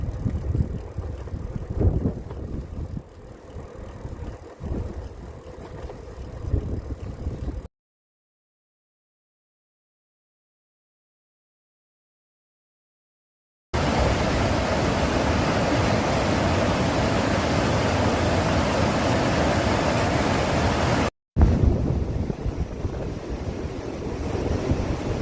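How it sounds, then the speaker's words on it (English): Strong wind roars across the microphone while a person cycles outdoors on a windy morning, a loud continuous broadband rush broken by a long silent gap and a brief dropout, with no talk. "The wind is really picking up."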